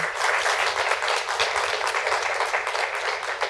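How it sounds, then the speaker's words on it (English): Sustained audience applause following a nonfiction writing presentation, a dense steady wash of many hands clapping at even loudness throughout, with no one speaking over it. "If we could just give Mieke a round of applause for this wonderful presentation."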